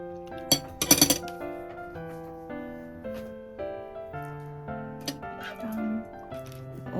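Small ice cubes clink against a glass while being added to a cold Japanese-style ramen dish, bright scattered clinks with a cluster of sharp knocks early on, then lighter taps and ringing tones, close up with no speech.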